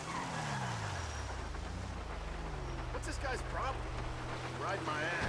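Car engine hum and tyre noise in the video game GTA 5, with a steady low drone shifting in pitch as the vehicle drives, and some faint chirps or squeals toward the end.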